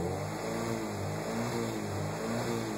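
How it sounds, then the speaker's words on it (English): Alfa Romeo 75 Twin Spark engine on Motronic 4.1, revved while stationary against a soft rev limiter set near 3080 RPM, a steady buzzing drone with rapid stuttering cuts pulsing through it. "see it's cutting every 30 milliseconds. It's cutting in at 3080 RPM and then resetting"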